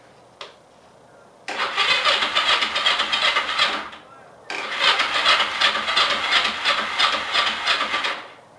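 A Honda CB125T motorcycle with a freshly charged battery is cranked to start, giving two long, loud whirring bursts separated by a short pause, heard up close.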